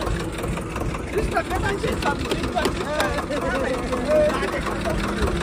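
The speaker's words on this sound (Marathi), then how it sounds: "आबा चालू केला माणसाने ट्रॅक्टर." A tractor engine idles with a steady mid-pitched chug while people talk over it nearby.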